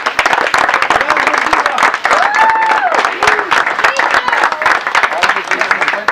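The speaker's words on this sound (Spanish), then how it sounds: "Un aplauso para todos." A crowd gathered outdoors for a cooking event applauds loudly and continuously, dense clapping mixed with cheering voices and a few whoops rising above it.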